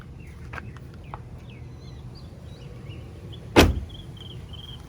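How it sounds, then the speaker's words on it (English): The hood of a BMW E36 M3 shuts with a single solid thud amid a quiet outdoor background with faint bird calls. "So we'll try and see if the hood closes with ease, make sure nothing hits."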